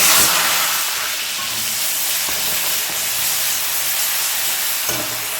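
Onion, garlic and ginger paste fries in hot oil with five-spice, giving a steady, loud sizzling hiss that runs throughout with no voices.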